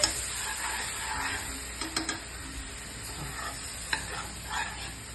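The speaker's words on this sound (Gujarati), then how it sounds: "માવો શેકાઈ જાય એટલે આપણે એમાં થોડું દૂધ એડ કરતું જવાનું છે, ગાંઠા ન પડે એનું ધ્યાન રાખવાનું છે, હલાવતા જવાનું" Roasted mava (khoya) is stirred in a pan as milk is added bit by bit for a rajgira halva, giving a soft continuous sizzle with scattered scraping and light clinks of the spoon.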